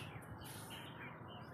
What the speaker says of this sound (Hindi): मेरे पापा रोज की तरह चिड़ियों को दाना डाल रहे हैं और यहाँ पे चिड़ियाँ आ रही हैं।